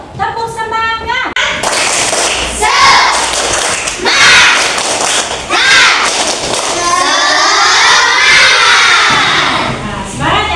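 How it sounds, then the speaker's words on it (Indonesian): A classroom of children doing the 'tepuk semangat' clapping chant, loud rhythmic group claps and thumps mixed with shouted chanting, with a teacher's voice leading at the start. "Tepuk semangat dulu yuk."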